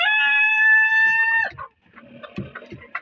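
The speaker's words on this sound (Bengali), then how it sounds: "এগুলো আমার টাইগার মুরগি" A tiger-breed chicken gives a loud, sustained call that is nearly pure in tone and close by. Lower clucking and other farmyard chatter from the flock follow. No one speaks.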